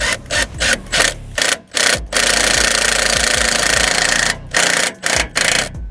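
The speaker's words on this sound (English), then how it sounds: "if you've got a gun, I would recommend just doing these on a low setting" An impact gun on a low setting drives bolts while a steering pitman arm is replaced on a Mitsubishi Shogun Sport, giving loud rattling hammer bursts: several short ones, a long sustained run, then a few more short bursts.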